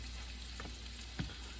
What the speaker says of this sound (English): I diced up some peppers and the onions, and I'm putting them in some oil. As you can hear that sizzle.